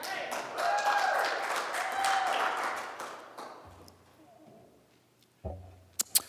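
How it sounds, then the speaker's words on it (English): Audience applause at a 2022 Black & Gold Pride event: a dense, steady wash of clapping rises quickly, holds for about three seconds, then fades out, followed by a few stray thumps. "let's give this guy a round of applause"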